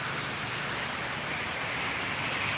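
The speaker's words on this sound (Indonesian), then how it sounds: "sekarang kita lagi di air terjun Embanai" Lembah Anai waterfall near Padang Panjang, a constant loud broadband rush of falling water, close and steady with no voices.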